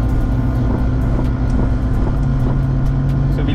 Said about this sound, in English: Bunyi belakang dia tu adalah dia punya pump dia, hydraulic dia.